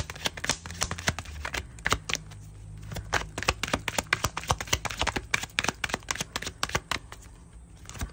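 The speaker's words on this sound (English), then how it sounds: "I like seeing these cards flip" Tarot cards are shuffled and flipped close by in quick, irregular bursts of crisp riffling and slapping, continuous throughout with no talking.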